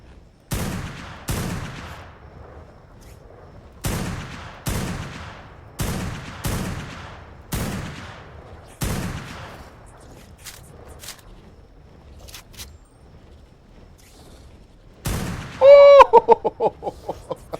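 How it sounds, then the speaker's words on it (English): Sniper rifle fire in the video game Ark, about ten sharp, loud single shots spaced a second or two apart, each with a short echoing tail, followed by a brief burst of rapid clicking rattles near the end. "we're going to snipe these other creatures"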